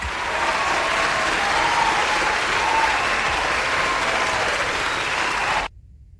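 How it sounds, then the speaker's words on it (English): Sustained applause from a group, steady and fairly even, filling about five and a half seconds before cutting off abruptly into near silence. "I need some applause for that."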